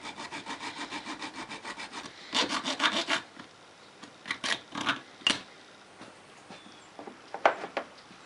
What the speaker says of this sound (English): I'm going to cut off a little tab and drill and tap a hole